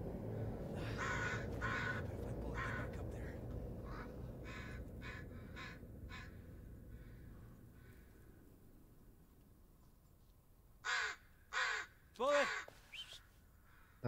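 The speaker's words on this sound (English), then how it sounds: "Thanks, crows, ravens, whatever you are." Crows cawing in a forest in the video game Blair Witch, a few scattered calls early on, then a clearer burst of three or four loud caws near the end.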